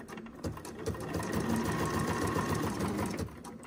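Sewing machine stitching along a wired fabric leaf for a bee hive pin cushion, a steady fast mechanical chatter close by, starting and stopping after about three seconds of running.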